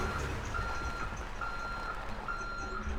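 In the GTA 5 video game, a reversing truck sounds a steady run of evenly spaced warning beeps over a constant low engine rumble, clear and moderately loud, with no voices during it.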